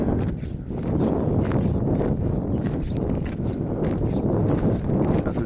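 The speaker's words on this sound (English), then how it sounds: "Oh, the wind's picking up a bit up round here." Wind gusting across an open fishing lake at a match venue, a continuous buffeting rumble with broadband rushes that rise and fall, loud and close with no talk.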